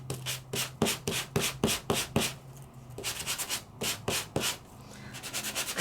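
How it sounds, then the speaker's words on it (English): Embossed printed paper is sanded by hand to strip its top layer, giving close, rhythmic scratchy strokes in quick bursts with short pauses between runs. "I'm sanding off the top feature, the top layer of that printed paper"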